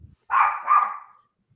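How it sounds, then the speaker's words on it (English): A dog gives two quick, clear barks in succession at moderate distance, with quiet surroundings before and after. "Whose dog is that?"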